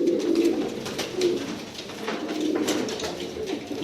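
Tumbler pigeons coo close by in soft, repeated throaty bursts, several overlapping calls over a quiet background, with no one speaking.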